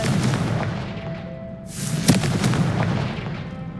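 A Confringo fire spell explodes in Hogwarts Legacy, a single booming blast with a sharp crack in the middle of a steady rumbling game soundscape.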